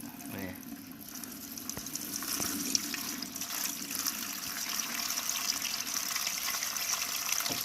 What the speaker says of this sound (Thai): ใส่ลงไปเลยครับน้ำหกลิตร